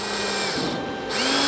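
A power drill twists metal welding electrodes together, whirring steadily at close range, slowing briefly to a lower hum mid-run and then spinning back up, with no talk.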